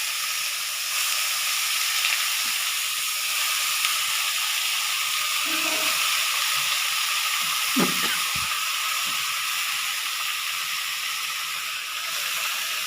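Snake gourd frying in hot oil with dried red chilli and nigella seeds, a steady loud sizzle with a few scrapes and clinks of stirring partway through.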